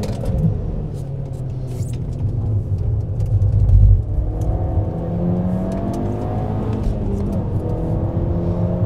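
An Audi S3 with high mileage drives along a mountain road at about 1500 metres, its engine rumbling from inside the cabin and rising in pitch as it accelerates through the gears, with a brief louder surge near the middle.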